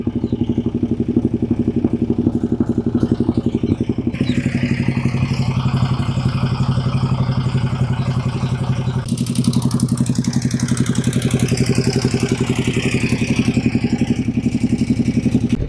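A 2012 Ducati Diavel motorcycle engine idles steadily and loudly up close, a throbbing low rumble with a slight shift in tone partway through, no voices.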